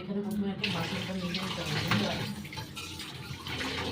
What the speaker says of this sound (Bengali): অল্পই বাসন আছে খুব বেশি বাসন নেই রাতে মেজে রাখতে হয়